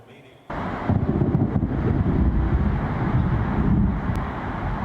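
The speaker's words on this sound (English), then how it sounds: "that is the sound of thunder rumbling through Tacoma." Deep, sustained rumbling of thunder from a major storm over Tacoma rolls in after a quiet start, a broad low roar that stays loud and steady for several seconds.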